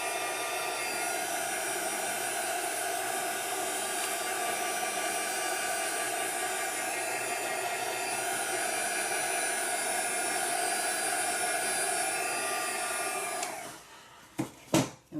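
A handheld dryer, likely a heat tool, blows steadily and loudly for about thirteen seconds, drying stamped ink on vellum, then cuts off, leaving a few faint handling clicks.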